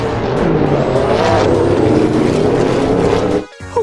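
A toy yellow race car gives out a loud electronic engine roar that rises and revs steadily, then cuts off abruptly near the end.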